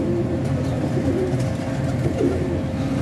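Migratory pigeons in a pigeon loft coo in a low, steady murmur, several birds overlapping continuously with a faint hum of background noise throughout.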